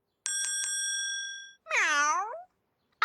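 A cartoon cat meow sound effect in a sound-guessing game: three quick bright bell dings ring out first, then a single clear, drawn-out meow, with no speech.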